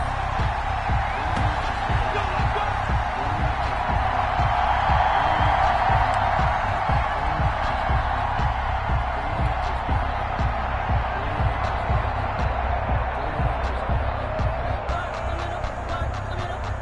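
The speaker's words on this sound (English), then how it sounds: "This crowd is ready" A stadium crowd in a football video game, New York Jets against Miami Dolphins, keeps up a steady, loud roar that swells slightly and continues throughout.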